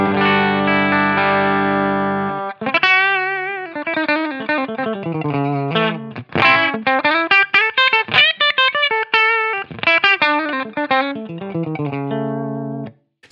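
Electric guitar run through a Line 6 Helix with mild parallel compression: a held distorted chord, then a phrase of picked melodic notes with sharper attacks and more dynamic swell, edged with chorus and light echo, played alone.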